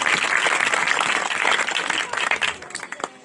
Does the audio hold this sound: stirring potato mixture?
no